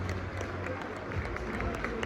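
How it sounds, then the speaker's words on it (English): Football fans applauding Hull City players after a defeat, a broad sustained clapping from a crowd with murmuring voices underneath, steady and moderately loud. "we'll clap the players and we'll show our support"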